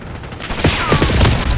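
Shotgun blasts ring out in Call of Duty Black Ops 6 gameplay, a rapid string of loud, booming shots that follow one another after a quiet start.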